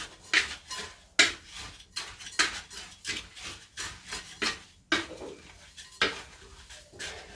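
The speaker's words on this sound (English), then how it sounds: "mix up the dry ingredients" Dry granola ingredients scraped and stirred with a utensil in a very large bowl, close and fairly loud, in uneven rubbing strokes with repeated sharp scrapes and knocks against the bowl, no talking.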